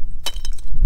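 Dry cracked ground in Death Valley, California, crunching and crackling like breaking glass under footsteps, a few brittle bursts close by over a low background rumble.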